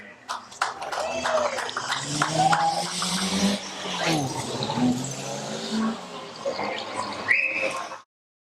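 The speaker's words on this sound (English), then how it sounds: "makes some noise as he goes round for his lap of honour" A stock car engine roars and revs past on a lap of honour after a race win, amid crowd noise, cheering and a loudspeaker voice, with a brief tire squeal near the end.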